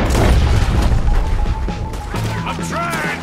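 Booming gunshots and crashes fill a shootout in Red Dead Redemption 2, loud at first and then easing off. A voice talks over the later part.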